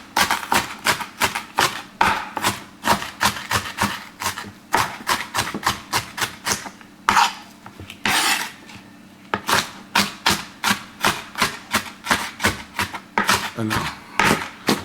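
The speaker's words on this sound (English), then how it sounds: "I just take the same procedure and just chop them up like that." Diced vegetables chopped with a knife on a chopping board in a home kitchen: a steady, rapid run of close, crisp knocks with a brief pause midway before the rhythm resumes.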